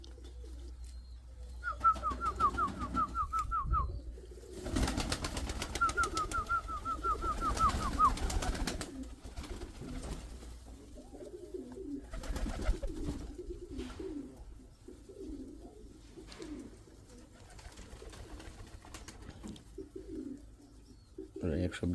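Pigeons coo in low, soft phrases scattered through a long stretch, with faint high chirps early on and someone talking intermittently over the birds.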